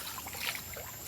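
Water sloshes and trickles as it is poured over freshly cleaned fish in a container outdoors, a short, busy, close splashing rush with no voices.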